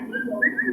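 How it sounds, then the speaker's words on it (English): A person whistles to call a dog indoors, a short, close two-part whistle with a rising tone that lasts under a second. "With dogs, you probably have to whistle."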